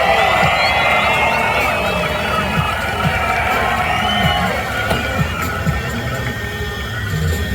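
A crowd cheering and shouting at an outdoor burnout competition, a sustained dense roar of voices with whistles and engine throbbing underneath, steady and loud throughout.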